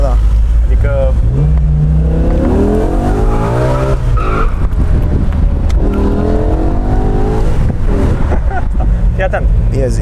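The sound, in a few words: Mercedes E63s AMG engine revving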